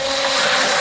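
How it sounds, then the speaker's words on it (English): Immersion blender stirring a homemade laundry soap bar mixture gives a steady, close motor whir with a constant high whine, running alone without a break. "stir it again with the immersion blender."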